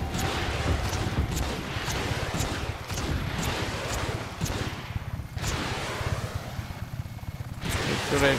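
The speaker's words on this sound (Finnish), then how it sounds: "ammutaan nyt se tuo laiva sitten ihan ensimmäisenä" Rapid gunfire in the video game Just Cause 3, aimed at a ship, plays as a steady stream of sharp bursts and repeated cracks over continuous wind-like noise, with a few louder shots standing out.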